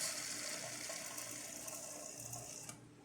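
A Lelit Elizabeth espresso machine refills with water after a service, giving a steady mechanical pump buzz with a faint watery hiss, quiet and continuous before cutting off near the end.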